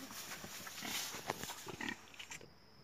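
Pigs and piglets grunt and snuffle close by in short, irregular bursts, fairly quiet, with faint squeals over a soft background hiss.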